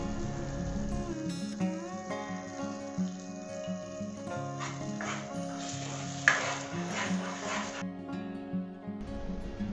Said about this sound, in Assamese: গোটেইখিনি হেতাৰে লৰাই ভালদৰে মিক্স কৰি লওঁ।